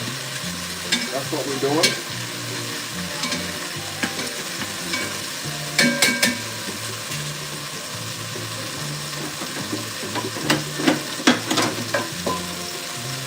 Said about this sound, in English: Right now I'm searing the meat